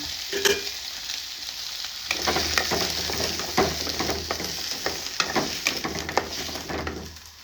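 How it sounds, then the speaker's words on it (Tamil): Onions and garlic fry in oil for a goat head curry, giving a steady close sizzle with repeated scraping and stirring clatters throughout; no speech. "எண்ணெய் ஊற்றிக்கிட்டு வெங்காயம் பூண்டும் போடணுங்க"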